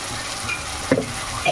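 A ginger, garlic and cumin paste fries in hot oil, giving off a close, steady sizzle. Short stirring scrapes cut through the hiss.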